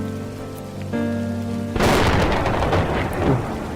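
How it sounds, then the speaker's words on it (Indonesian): Heavy rain pours steadily in a drama scene, a broad hiss that sets in abruptly partway through after a sustained tonal passage and stays loud to the end. "Mana hujan lagi."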